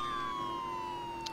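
A police siren from the Roblox Vehicle Simulator video game wails in a steady, slowly falling tone, heard fairly faint and distant with no talking.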